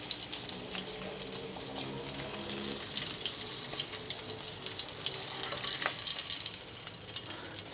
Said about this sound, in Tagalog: Atin na pong hugasan si Pichay.